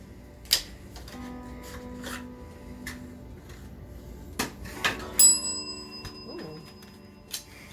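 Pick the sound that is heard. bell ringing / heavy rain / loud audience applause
bell ringing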